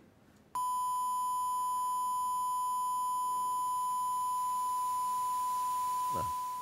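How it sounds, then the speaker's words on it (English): A steady pure sine-wave tone beeps on abruptly and holds, blended with a faint hiss of white-noise dither underneath, with no speech. "Now I'm going to blend this noise with our original sine wave and watch what happens to the distortion."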